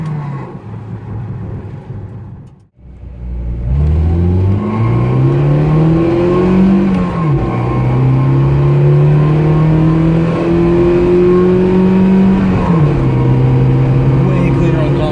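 Lada car engine running and revving on a road test after a timing chain fix, loud and close, rising and falling through gear changes after a brief quiet start.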